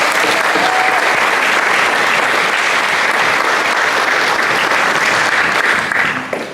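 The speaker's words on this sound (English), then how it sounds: "How about one more round of applause?" A large audience gives sustained, loud applause at an elementary school Patriot Day assembly, dense steady clapping that thins out and fades near the end.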